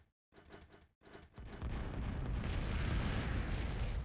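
Bombing-run explosions in a video game: a few short bursts, then a heavy, sustained rumbling roar that swells and holds loud to the end, with no voices.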